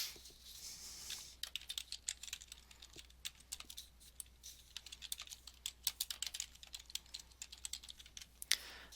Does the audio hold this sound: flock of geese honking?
no